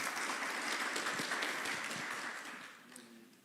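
A church congregation applauds steadily, the clapping fading away toward the end, with a faint voice briefly audible as it dies down.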